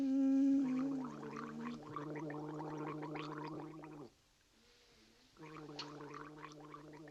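A man gargles loudly and close by, a bubbling, tonal churn that runs for about four seconds, stops for a short pause, then starts again for another stretch.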